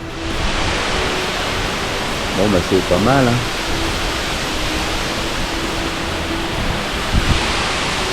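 Waterfall in Tahiti, a steady, broad roar of falling water that fills the scene, with brief talk partway through.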